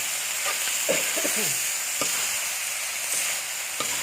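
Eggs stir-fried with eggplant and minced pork sizzle steadily in a hot pan, with a continuous bright frying hiss and a few soft stirring scrapes, close and alone.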